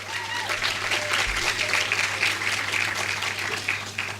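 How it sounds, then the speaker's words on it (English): An audience at a student awards ceremony breaks into steady, dense applause that keeps going throughout, with a low hum underneath. "Let's give them an applause,"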